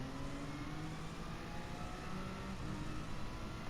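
A car doing burnouts in Gran Turismo Sport, its engine held at a high, steady rev with a sustained droning roar and tyre noise, fairly quiet and with no talk over it.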